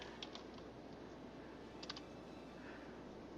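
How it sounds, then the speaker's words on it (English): Computer keyboard typing in a city-building game, with a few light key clicks including an enter press, faint against steady background hiss. "And clicking the enter so that it sticks."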